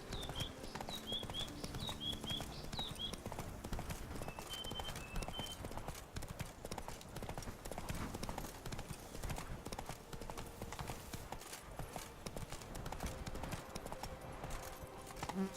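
Roach, a horse in the video game The Witcher 3, gallops with a steady clip-clop of hooves and a brief whinny early on, running continuously at moderate loudness amid ambient game sound.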